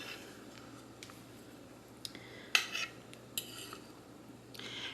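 A knife cuts through a homemade blueberry cake and taps a plate, making quiet scrapes and a few sharp clinks close by over a faint steady hum.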